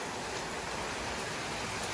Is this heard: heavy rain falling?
yes